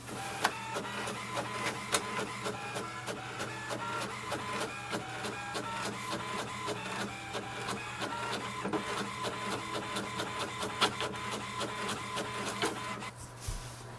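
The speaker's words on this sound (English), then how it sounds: "click on the print button and wait for the printer to print the page." An HP Envy Pro 6455 inkjet printer prints a page with a steady mechanical whir and a rapid string of clicks and ticks. The sound stays close and even throughout, with no voices.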